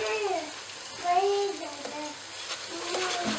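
Spices sizzle in oil in a pot of beef pulao as they are stirred, giving a steady, low frying hiss with occasional scraping, while faint voices carry in the background.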